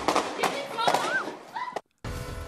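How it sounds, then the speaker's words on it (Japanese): Gunfire in a student neighborhood near Santa Barbara, California, captured on a shop security camera: sharp bangs crack out at irregular intervals amid shouting and commotion, followed by a brief silence and then a burst of noise. "そして銃声が。"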